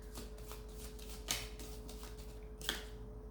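Oracle cards are shuffled in hand before one is drawn, soft papery riffles and slides with two sharper snaps, quiet and close.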